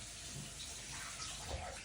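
Salad vegetables rinsed under a running kitchen tap, a soft, steady rush of water that stays faint and continuous throughout, with no speech.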